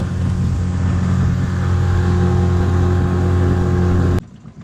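A Mercury 9.9 four-stroke outboard motor drives a boat along at speed, a loud, steady drone with strong low harmonics that cuts off abruptly near the end, leaving quieter wind and water noise.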